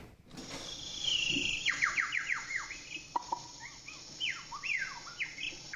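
A voice imitating high-pitched bird calls: rapid, close sequences of sharp descending chirps and whistled trills in quick bursts, with no talking.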